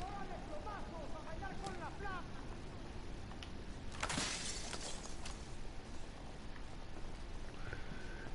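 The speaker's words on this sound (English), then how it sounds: "You can shoot at the glass, that works too." Glass shatters from a gunshot in a video game, a sudden bright crash midway through, over steady wind-like background noise and faint chirpy game sounds.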